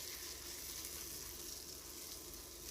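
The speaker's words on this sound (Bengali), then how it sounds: "সবগুলো উপকরণকে একসাথে ভালো মতো আমি ভেজে নেব" Bottle gourd leaves fried together with grated coconut and green chilli in a pan over medium heat give a steady, soft sizzle that stays even and moderately close throughout, with no talking.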